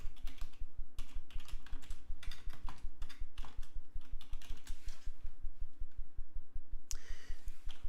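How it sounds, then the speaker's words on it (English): Steady, fast clicking of keys as a sentence is typed on a computer keyboard, close and fairly quiet, with a few louder key strikes and no talking. "so here I'm going to write a quick sentence."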